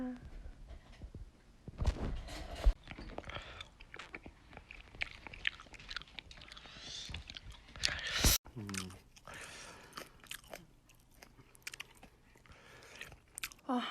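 Close, crunchy chewing and biting of mala xiang guo, irregular mouth noises with scattered clicks and a sharp knock partway through.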